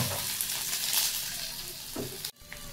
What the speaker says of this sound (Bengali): এগ স্যান্ডউইচ বানানোর জন্য এই যে সাদা তেল গরম করে জিরে ফোড়ন দিয়ে দিয়েছি